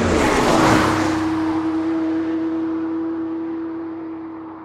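A car pulls away hard with its engine revving loudly, a strong steady engine tone holding through the whole stretch and fading slightly toward the end, with no talking over it.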